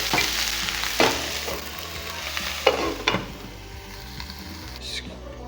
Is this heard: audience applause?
no